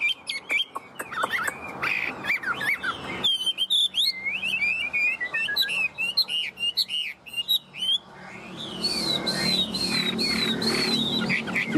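A Chinese hwamei songbird sings loud and close, with rapid varied whistles, trills and chirping phrases pouring out almost continuously.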